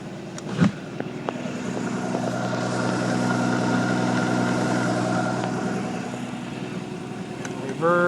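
A Celebrity ski boat's engine idles in gear with a steady, moderately loud mechanical drone, briefly interrupted by a clunk early on, while someone speaks over it.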